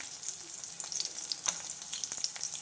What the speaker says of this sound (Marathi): तर शेंगदाणे टाकून घेतलेले आणि ते खमंग अशी होऊ द्यायची व्यवस्थित